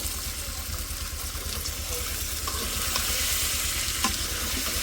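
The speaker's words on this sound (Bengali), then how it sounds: "এটা কষাইতে থাকি" Food being sautéed and stirred in a pan on a home stove, a dense continuous sizzle with scraping and light clicks, close up and without talk.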